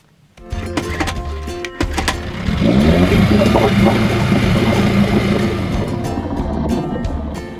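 A small outboard motor on a raft starts up and runs steadily at a loud, even drone, with a brief rise in pitch as it revs.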